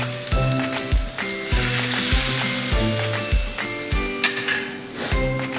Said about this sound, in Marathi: छान आपला असा हा तडका आता यावरती घालून घ्यायचा आहे